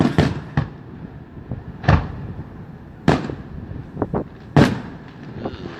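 Fireworks exploding in St Croix, a series of sharp, loud booms and crackling bursts at irregular intervals, some close and some farther off, with wind noise between blasts and no talk.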